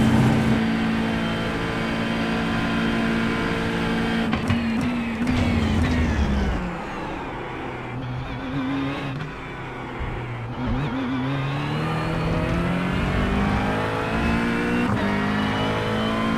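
A GT3 race car engine in iRacing revs hard and steady, loud and close from the cockpit, with the pitch climbing and dropping through gear changes over a continuous drone of tyre and road noise.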